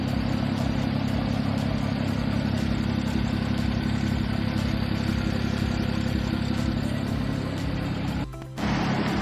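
A 2011 Porsche 911 Turbo Cabriolet engine runs steadily and loudly nearby with a constant droning rumble and mechanical clatter, briefly dipping near the end.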